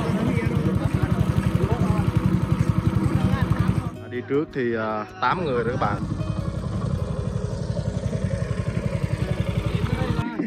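A small motorboat engine tows an ordinary boat across a river, putting out a loud, steady, rapid pulsing drone that drops briefly as someone speaks, then resumes evenly.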